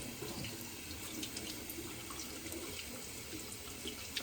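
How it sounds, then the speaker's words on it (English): Water runs steadily from a tap in a continuous hissing splash, fairly close and unbroken for the whole stretch, with no voices, as a synthetic shaving brush is warmed under it. "Just gonna warm it under the water real quick."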